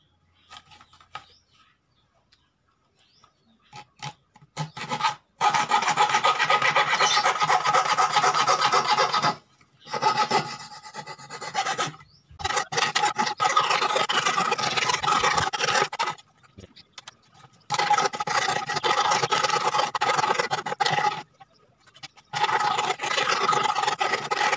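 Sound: hand saw cutting plywood

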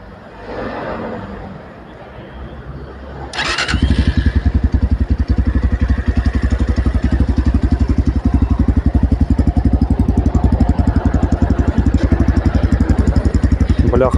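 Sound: Tekken Discovery 300 motorcycle engine starting and exhaust idling

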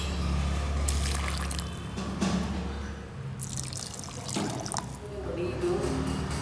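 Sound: water being poured onto a chrysanthemum plant

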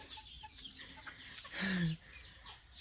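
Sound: chickens clucking

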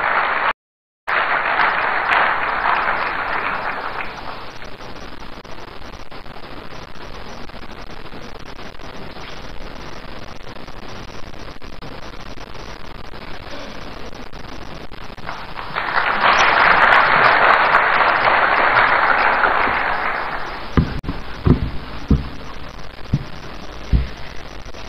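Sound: audience applause for the host MP

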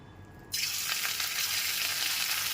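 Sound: marinated chicken pieces frying in hot oil

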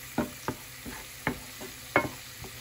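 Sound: spice paste frying with fried onions

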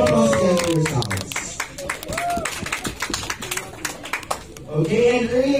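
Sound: audience applause

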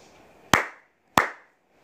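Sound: two hand claps

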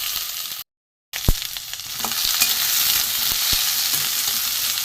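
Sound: vegetarian soya chunks frying in oil

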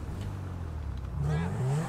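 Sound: car engine in video game GTA 5

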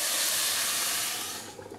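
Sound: rice cooking in a hot pan on high heat

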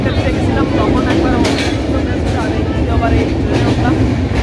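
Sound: passenger train running, Khulna to Godkhali

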